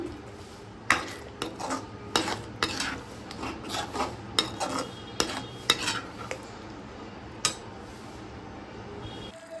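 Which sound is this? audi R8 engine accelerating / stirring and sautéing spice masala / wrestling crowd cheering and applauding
stirring and sautéing spice masala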